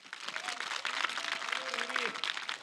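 Applause from an outdoor crowd at a youth concert on a riverside park stage, a steady wash of clapping throughout with a voice speaking over it.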